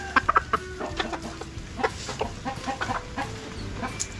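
Chickens cluck close by in a quick cluster of calls, then keep up scattered, irregular clucks over a busy farmyard background.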